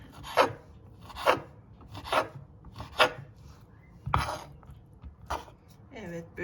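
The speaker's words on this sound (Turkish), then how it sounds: "Şimdi aynı ciğer küçüklüğünde de yüreğini doğruyoruz." A knife chops lamb heart on a cutting board in a kitchen, about seven firm, unevenly spaced cuts close by over faint background noise.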